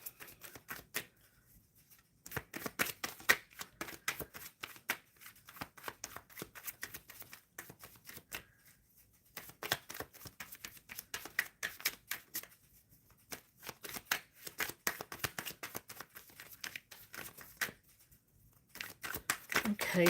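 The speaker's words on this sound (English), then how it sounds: "I'm shuffling for the collective." Tarot cards being shuffled by hand, repeated bursts of crisp riffling and slapping in quick clusters with short pauses between, fairly quiet and close.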